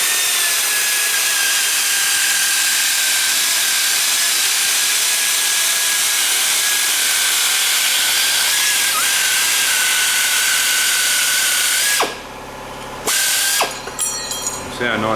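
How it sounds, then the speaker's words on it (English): A pneumatic nibbler cuts a plastic shim for a Classic Mini air vent, giving a loud, steady buzzing rasp for about twelve seconds before stopping, followed by a few brief hissing bursts from a compressor. "So once again the nibbler's come in very handy here. So I can cut round the edge of this shim that I want to make."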